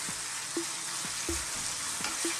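Lamb pieces browning in a pot for an Arabic lamb stew give off a steady broadband sizzle, with a few short scrapes of stirring at intervals; no voices.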